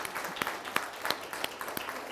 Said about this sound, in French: Applaudissez si vous êtes là alors.